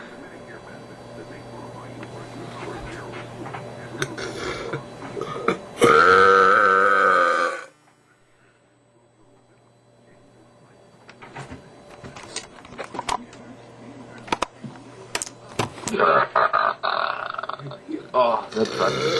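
Loud burps from a person on a webcam chat, several long guttural eructations in bursts, one big sustained burp near the middle, then quiet, then more bursts mixed with voices talking.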